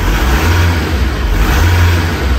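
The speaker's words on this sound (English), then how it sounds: "you'll hear the car start to accelerate." A car's engine revs up as it is accelerated through an RT12 radial hand control, a loud, sustained near engine drone holding steady throughout.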